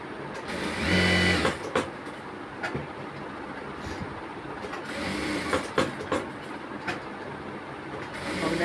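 An industrial sewing machine stitches a shirt pocket in place, running in short bursts of fast mechanical clatter separated by pauses and light clicks of handling, fairly close.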